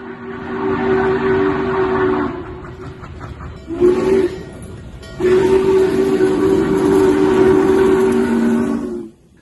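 A classic steam locomotive more than 80 years old sounds a loud, sustained whistle in two long blasts separated by a brief break, over the heavy rumble of the engine close by.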